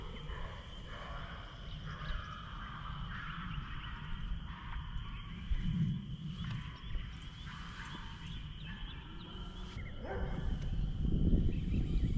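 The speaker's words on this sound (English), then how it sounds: "it does sound like there was a dog getting murdered in the background" A dog yelps and barks faintly in the distance in a few scattered bursts over a low, rumbling outdoor background near water where kayak bass fishing is under way.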